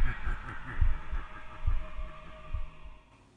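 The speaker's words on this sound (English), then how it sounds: "Listen to your heartbeat. So strong, so loud." A heartbeat sound effect plays in a Spirit Halloween animatronic promo, deep muffled thumps in paired beats, loud and close at a slow steady pulse, fading toward the end.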